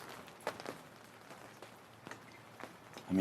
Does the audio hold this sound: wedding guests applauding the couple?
no